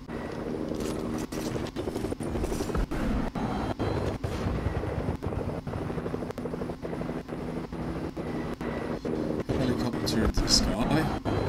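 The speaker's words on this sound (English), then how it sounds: "Helicopter in the sky." A helicopter drones steadily overhead with a low rotor thrum in a video game, mixed with other game sounds and speech.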